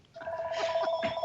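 A landline telephone rings in short, bright electronic trills, close and clear, with no talk over it.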